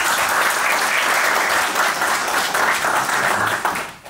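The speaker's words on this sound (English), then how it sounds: "we must thank them with a round of applause" An audience gives a round of applause at a gathering hosted with a legal firm partner, dense continuous clapping that holds steady and fades near the end.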